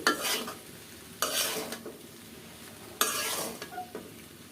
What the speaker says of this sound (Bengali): তারপর উল্টে পুলটে নাড়াচাড়া দিয়ে মিশাই দিব